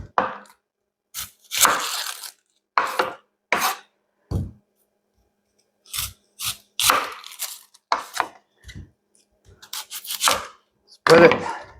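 Onion being chopped on a board for a fish curry, a series of sharp, close knife thuds coming in irregular clusters with short pauses between them, loud and clear, with no talking.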